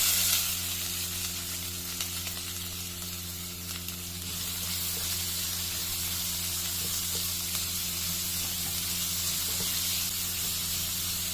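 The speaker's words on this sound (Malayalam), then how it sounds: "നമ്മുടെ സവാള അരിഞ്ഞതും പച്ചമുളക് അരിഞ്ഞതും കൂടി ഇതിൽ ചേർക്കാം" Chopped onion and green chili frying in hot oil for a pepper chicken curry, giving a steady broad sizzle with a low hum underneath and faint stirring scrapes, no voices.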